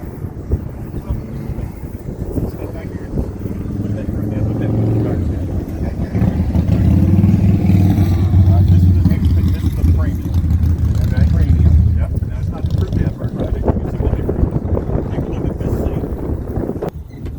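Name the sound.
Can-Am off-road vehicle driving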